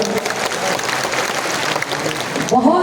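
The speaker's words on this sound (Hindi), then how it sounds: "इनके लिए जोरदार ताली दीजिए भाइयों" A political rally crowd in Bihar breaks into loud, dense applause that keeps going for a few seconds. A voice surfaces near the end of it.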